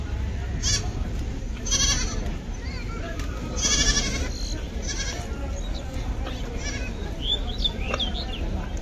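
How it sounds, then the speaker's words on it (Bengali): Goats bleating at a crowded livestock market, several short nasal bleats at irregular intervals over a busy background of people talking nearby. "আর এই ছাগলগুলো আছে"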